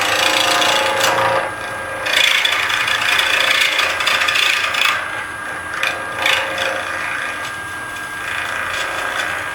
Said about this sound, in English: I've got basically just my little 3/4 inch spindle gouge